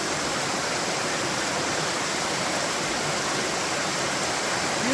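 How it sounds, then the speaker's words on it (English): A small waterfall beside a hiking trail rushes in a steady, dense wash of water noise, close and continuous from start to finish with no voices. "A little mini waterfall."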